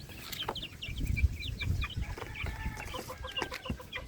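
Young Bulik gamefowl chickens clucking in a flock, with repeated short clucks and chirps overlapping at close range against background noise.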